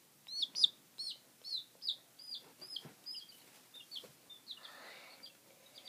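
Baby chickens give repeated high, thin chirps in quick bursts, close and fairly quiet, with soft clucking rustles toward the end.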